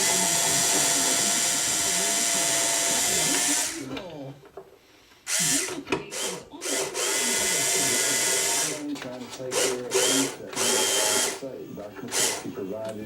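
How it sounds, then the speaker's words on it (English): A power drill whines steadily and loudly while drilling a hole in wood, then cuts out briefly and restarts in several short bursts near the end. "I'm going to go ahead and drill one hole"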